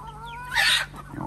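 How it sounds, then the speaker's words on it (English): A short buff Orpington chicken vocalization, a brief squawky cluck rising over soft background murmur, fairly close. "Here's one of our buff Orpingtons."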